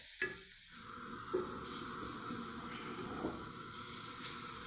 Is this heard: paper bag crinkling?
no